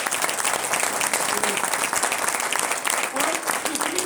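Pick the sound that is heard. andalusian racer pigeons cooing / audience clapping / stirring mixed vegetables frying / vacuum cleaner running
audience clapping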